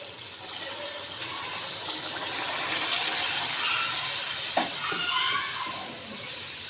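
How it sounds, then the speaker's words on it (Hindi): Chicken broth (yakhni) pours steadily into a pan of chickpeas and chicken frying with black pepper, making a continuous loud watery gush and sizzle that fades slightly near the end. "जब हम डाल लेंगे इसके अंदर यखनी"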